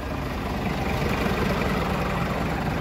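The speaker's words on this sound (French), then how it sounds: "on va éteindre le moteur" A truck engine idles steadily at close range, a continuous low diesel rumble with no other sounds over it, recorded during a tour of heavy equipment at a work site.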